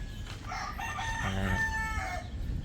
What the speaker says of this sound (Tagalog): Dito naman tayo sa side ng mga breeder na manok.